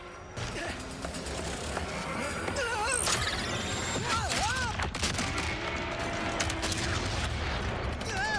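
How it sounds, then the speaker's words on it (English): A Ratchet and Clank boss fight against the Nefarious suit fills the air with dense explosions, rapid gunfire and crashing impacts, mixed with whooshing sci-fi weapon effects, loud and continuous throughout. "Ratchet tries to blow up the Nefarious suit"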